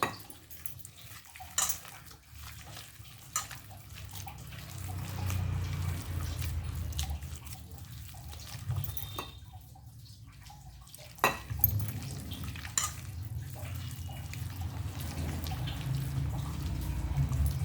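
Coriander batter for vadi being mixed by hand in a bowl: quiet wet squelching and mushing with intermittent clinks and taps of a utensil against the bowl, near and unhurried.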